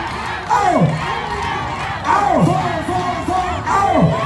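A crowd cheering on cyclists bursts into loud shouts in three repeated waves, each cheer swelling and falling away, close and energetic.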